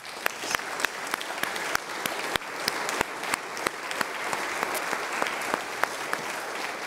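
Parishioners in a church applauding their elders, a steady sustained round of clapping from a congregation, with individual claps standing out crisply at moderate volume throughout.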